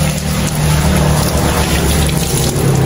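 Water is poured and splashes continuously during a pop-up pirate roulette ice-bucket challenge game, a steady loud rushing with no talk over it.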